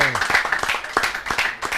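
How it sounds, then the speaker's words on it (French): A church congregation applauds, with irregular claps of moderate loudness mixed with voices talking over them. "On applaudit pour ce frère."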